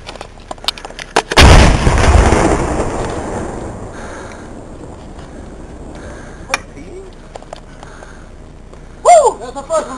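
Heavy artillery guns firing in Afghanistan: one huge, loud blast with a long rolling echo, then a quieter distant report, while people shout nearby.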